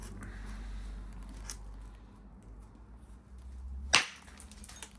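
A granite hammerstone delivers one hard whack to a piece of Norfolk sand flint, a single sharp crack near the end that follows quieter handling and shuffling.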